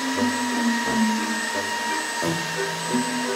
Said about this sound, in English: having to test the vacuum cleaner to see if it runs